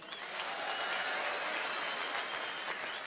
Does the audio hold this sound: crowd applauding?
yes